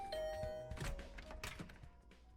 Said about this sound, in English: I rang the bell by the side of the door.